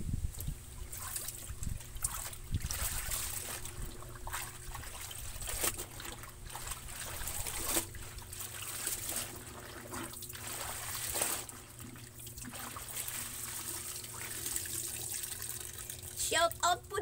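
Water trickles and splashes into a storage container being filled for laundry washing, a steady close flow with small knocks and drips, while someone talks over it at times.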